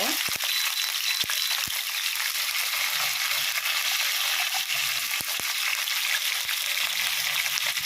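Onions and garlic sizzle steadily in a hot pan with curry leaves for a Tamil garlic curry, a constant close hiss broken by a few sharp crackles and stirring clicks.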